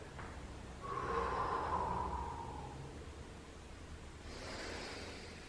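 A long, breathy exhale during a Pilates mat exercise swells for about two seconds, then a fainter breath follows near the end in an otherwise quiet room.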